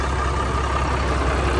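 A 2009 5-ton three-axle cargo truck engine idling, a steady low rumble with constant throb, close and fairly loud with no talk over it.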